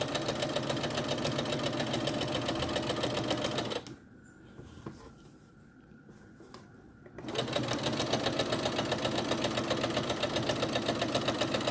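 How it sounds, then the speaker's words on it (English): A sewing machine stitches a drawstring backpack with a fast, steady mechanical chatter. It stops for a few seconds of quiet handling, then starts again at full speed, close and without voices. "we're going to put that down and continue to sew"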